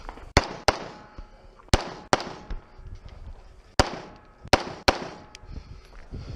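Rifle fitted with an SLT-1 trigger firing at three targets: about seven loud, sharp shots come in irregular pairs and singles, some with faint ringing afterward, and brief background noise sits between them.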